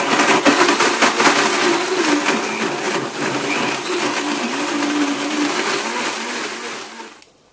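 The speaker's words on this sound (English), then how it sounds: "Now blend this on high for 60 seconds," A loud, close blender whirring at high speed with a grinding motor tone while blending a marshmallow smoothie, running steadily before cutting off abruptly at the end.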